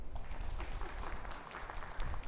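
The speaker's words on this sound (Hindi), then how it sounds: "इनके लिए तालियां हो जाए।" An audience claps for a student at a school session, a fairly faint, brief patter of many hands heard from a distance throughout.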